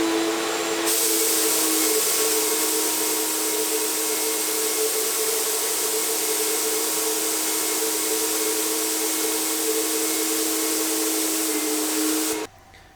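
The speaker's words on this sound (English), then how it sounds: "So if we turn it on, I'll pull the trigger and you can start to see the cup collapse." An HVLP turbine spray gun fitted with a 3M PPS Series 2.0 pressure cup roars steadily with a loud, airy hiss and whine for about twelve seconds, then cuts off abruptly near the end.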